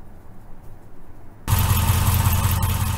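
A 2001–2004 Jeep Grand Cherokee engine with a hydraulic cooling fan, faint at first, then suddenly loud and close as a steady running drone with a rhythmic low pulse that holds to the end.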